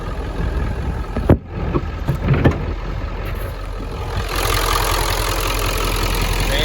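A Ford Powerstroke diesel engine idles roughly on five or six cylinders with bad injectors. It gives a steady, uneven knocking rumble with one sharp clunk early on, then grows a little louder toward the end, with no talk over it.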